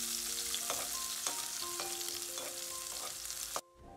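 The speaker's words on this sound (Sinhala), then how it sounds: "දැන් තෙල් ටිකක් රත් වෙන්න තියලා ඒකට ආබෑට ටිකක් එකතු කරලා ඒ ටික පුපුරගෙන එනකොට ලූණු සුදු ලූණු කරපිංචා එහෙම දාලා ඒ ටික හොඳට තෙම්පරාදු කර ගන්නවා" Mustard seeds, onion, garlic and curry leaves sizzle and fry steadily in hot oil, with a few light pops and stirring clatters before the sound cuts off abruptly near the end.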